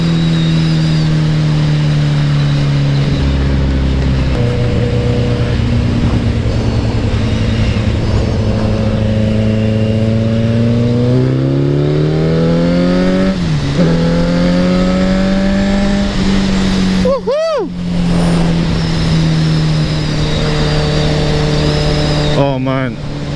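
A Kawasaki Z900 motorcycle engine drones loudly and steadily while riding, its pitch rising and falling as the throttle opens and eases, with a brief rev spike in the middle and constant wind rush.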